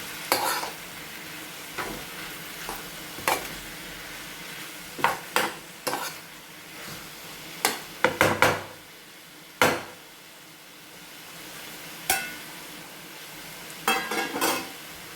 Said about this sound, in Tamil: ஃபைவ் டு 10 மினிட்ஸ் இது நல்லா வதங்கட்டும்.